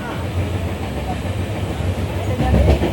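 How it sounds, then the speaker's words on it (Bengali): A steady low rumble and rattle of the Kamrup Express running on rails near Old Malda Junction, heard from inside the train and swelling slightly toward the end. "দারুণের গতিতে ছুটছে আমাদের কামরূপ এক্সপ্রেস"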